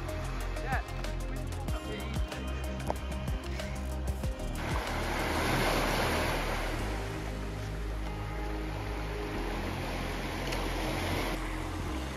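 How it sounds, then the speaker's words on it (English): Waves of an incoming tide wash against the shore at Durdle Door, a broad continuous rushing surf that swells louder partway through, with scattered knocks and handling noise early on. "Tide's coming in, mate."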